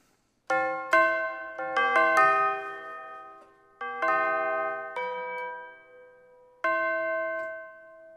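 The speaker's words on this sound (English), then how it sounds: "the problem with tubular bells is they go on for about 20 minutes" Tubular bells from the Project SAM Orchestral Essentials sample library, struck in a slow melodic sequence of ringing tones with long sustained decays, heard alone and clearly.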